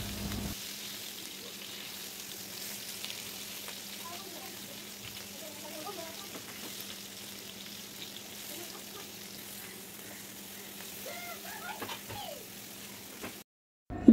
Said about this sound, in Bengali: আমি এভাবে উল্টিয়ে পাল্টিয়ে বড়াগুলোকে বেজে নিয়েছি